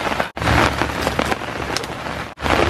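Rain falls steadily on a campsite at a freshwater fish sanctuary in Timah Tasoh, Perlis, a loud dense patter with two brief dips in the downpour.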